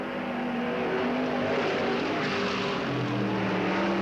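Race cars roaring around the Cottage Grove Speedway oval in 1991 as two drivers battle for position, a loud continuous engine drone with rising and falling pitch as cars pass, nearly drowning out a brief announcer's word.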